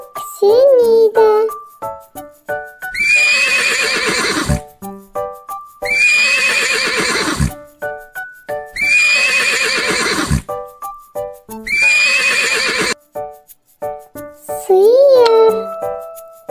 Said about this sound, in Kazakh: Жылқы кісенейді.